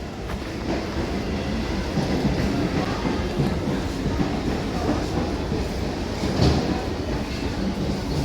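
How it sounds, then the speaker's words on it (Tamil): A local commuter train in Chennai rumbles past steadily and close, with broadband rolling noise and faint clacking of wheels throughout, no voices. "ட்ரெயின் வந்து ஒன்று இருக்குது லோக்கல் ட்ரெயின் பாருங்கள்"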